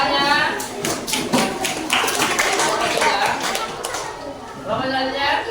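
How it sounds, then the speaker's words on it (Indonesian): A group of people clapping hands at a classroom-style group presentation, the claps blending with lively voices and chatter throughout. "Tepuk tangannya."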